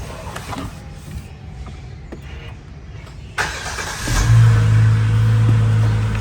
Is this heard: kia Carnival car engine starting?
yes